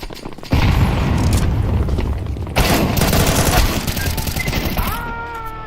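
A grenade blast and bursts of gunfire in a first-person shooter match, loud and dense, with a heavy boom near the middle and rattling shots throughout, ending in fainter mechanical clicks.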